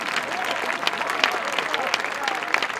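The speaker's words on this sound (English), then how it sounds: "can we give him a round of applause" Audience applause at an outdoor concert, a steady close wash of clapping that fills the whole stretch without a break.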